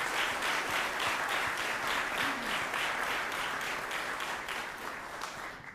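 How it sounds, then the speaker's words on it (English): A steady round of applause fills a county commissioner meeting room, many hands clapping together continuously at moderate volume before gradually tapering off near the end. "If you would, please lead us in another round of applause."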